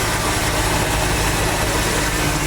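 A rebuilt truck V6 swapped into a MerCruiser ski boat idles on its first start, a loud, dense, steady rumble close to the listener.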